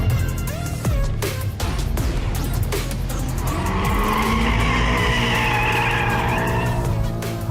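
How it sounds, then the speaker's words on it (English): A BMW M8 slides in four-wheel drive sport mode with loud, drawn-out tire squeals and skidding over a revving engine, the screech building and wavering for several seconds. "In four-wheel drive sport, the car will slide in a big way."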